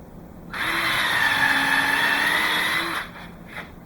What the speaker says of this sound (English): I'm going to pre-drill this right down.